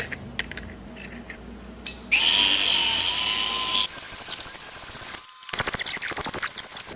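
An angle grinder fitted with a flat sanding disc tidying up an edge, with a loud whirring burst of about two seconds, a lower grind afterward, and scattered clicks and handling noises around it.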